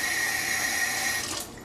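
Water streaming off the edge of a sheet of soaked watercolor paper, a steady, close hiss like a running tap that holds evenly and then tapers off near the end, with no talk.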